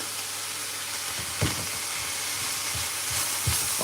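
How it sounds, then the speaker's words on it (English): Mince fries in a pan with a steady, dense sizzle and hiss throughout, broken by a few soft thuds and scrapes from stirring, close and continuous with no talking. "Nah, sizzling."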